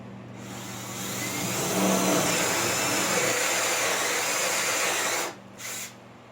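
Power drill boring holes for double barn door hangers, a steady loud whine that ramps up, holds for several seconds, then cuts out with a brief final burst.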